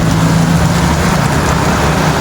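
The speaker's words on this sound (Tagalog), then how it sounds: "Ayan, lumakas na yung ulan dyan." Heavy rain pours steadily onto a surface outside where a bike is parked under shelter, forming a dense, continuous wash of noise without pause.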